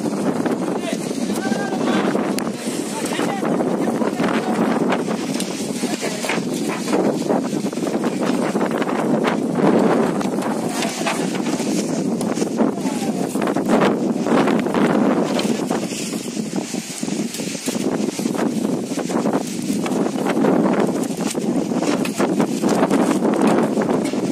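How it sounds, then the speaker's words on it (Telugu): Strong wind storm at a temple gathering where tents are collapsing, heavy continuous gusts roaring and buffeting the microphone throughout, with voices and crowd noise underneath. "విపరీతమైనటువంటి గాలి దుమారం లేస్తూ ఉంది"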